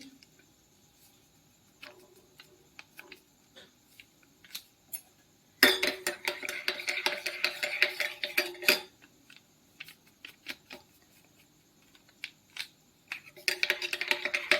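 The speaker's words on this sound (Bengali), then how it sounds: "অল্প অল্প দিয়ে আমি গুলে নেব" A spoon stirs Amul milk into a cup, clinking and scraping against the sides in short bursts. A dense run of close stirring sits in the middle, a shorter burst comes at the end, and quiet gaps fall between them.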